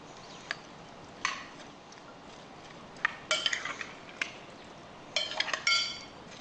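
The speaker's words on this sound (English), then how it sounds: "And now we're going to stir this stuff up." Corn dip with saltfish and fresh corn being stirred in a bowl, giving scattered clinks and scrapes of a utensil against the dish in short irregular bursts, close up and fairly quiet with no talking.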